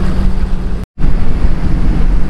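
A Scarab 165 jet boat speeds across the lake at Back Bay, Sandusky, Ohio, with a loud, continuous roar of rushing wind and water and one brief dropout near the start.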